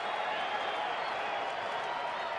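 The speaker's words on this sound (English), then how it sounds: "Crowd comes alive, trying to put Adam Dunn away." A baseball stadium crowd in Arizona cheers and claps as the pitcher works to strike out Adam Dunn; even, sustained roar of applause and crowd noise, fairly distant and diffuse.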